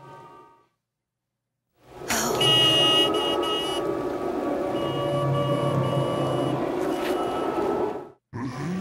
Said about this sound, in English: We're going to honk this horn.